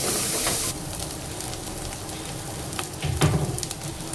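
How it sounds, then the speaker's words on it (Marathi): Ground masala paste sautéing in hot oil for chicken sukka, a steady close sizzle and crackle with occasional stirring scrapes, continuous and fairly loud. "वाटणालाही छान परतवून घ्यायचं आहे"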